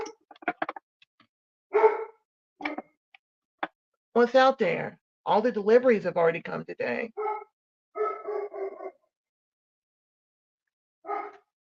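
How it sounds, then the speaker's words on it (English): A dog barks in short, close bursts, with some growling and whimpering between them. Someone talks to it in a quiet room. "What you barking? What's wrong, baby? He's growling like he wants to eat somebody."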